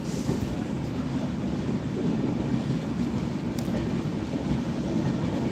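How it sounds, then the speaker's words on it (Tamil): Train passing, a steady low rumbling roar of rail cars rolling by at moderate distance, continuous with some wind buffeting on the microphone. "ஒரு ட்ரெயின் மட்டும் நின்றுட்டு இருக்குது இன்னொரு ட்ரெயின் போயிடுச்சு"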